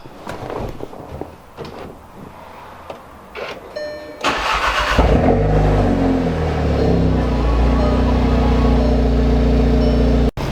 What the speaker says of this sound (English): Get us a nice little cold start here.